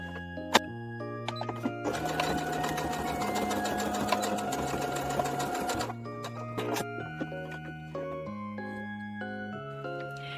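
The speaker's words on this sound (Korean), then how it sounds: "겉과 겉이 만나게 정확하게 반 접어서 1cm 연결 박음질을 해주세요." A sewing machine, an M370/M380D embroidery model, runs in steady bursts, stitching a 1 cm seam on a folded webbing-strap name tag, its rapid mechanical whirring stopping and starting at close range with no talking.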